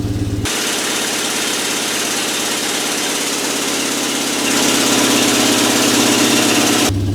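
A Mazda car engine starts and runs at a rough, throbbing idle close by, loud and steady, rising slightly in level near the end before cutting off, with no talking over it.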